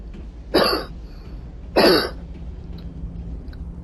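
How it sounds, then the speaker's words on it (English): A man in a Mass Effect gaming session coughs and clears his throat twice, two short rough bursts about a second apart, close to the microphone over a quiet background hum. "the coughing bit's me"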